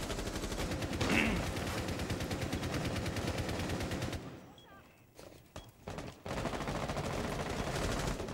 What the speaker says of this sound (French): ça tire là-haut